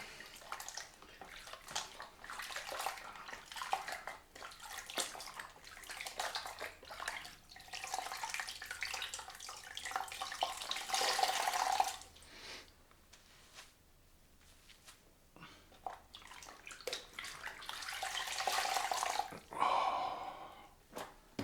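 Tap water runs and splashes during rinsing after a straight-razor shave, a steady rush broken by a quiet gap and then resuming with drips.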